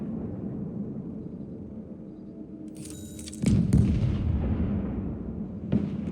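Munitions dropped by F-15 jets explode in the video game Broken Arrow: a sharp loud boom lands midway over a steady low battlefield rumble, with a second smaller blast near the end.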